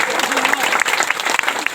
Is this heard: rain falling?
no